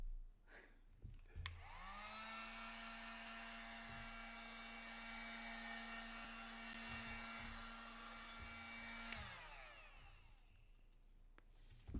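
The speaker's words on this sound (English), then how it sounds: "This is a freaking heat gun, man. It's not like a blow dryer" A heat gun blows a steady, loud whoosh of hot air for about seven seconds, with a clear click as it switches on and a falling whine as it shuts off, in a quiet room with no talking.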